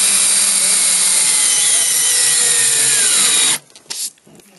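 A power drill bores into a piece of wood on a model railroad layout build, a loud steady whining drone for several seconds that cuts off abruptly, followed by brief quiet handling noise.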